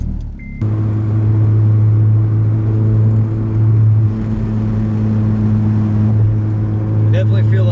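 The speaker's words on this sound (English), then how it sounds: "Definitely feel like I maybe have a little bit of exhaust leak for my headers or something like that." Engine rumble from an Acura TSX with an exhaust leak at the headers, a steady low drone held close and loud for most of the stretch, briefly joined by a higher whine near the end.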